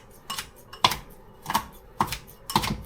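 Scissors snip through a carrot in a home kitchen, four or five crisp separate cuts about half a second apart, close and fairly loud with no talking.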